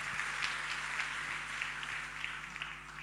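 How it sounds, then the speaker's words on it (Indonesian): A congregation at a prayer fellowship service gives a faint, steady wash of applause in praise of Jesus. It sounds distant and even throughout the few seconds, with no voices standing out. "Kita berikan tepuk tangan buat Tuhan Yesus."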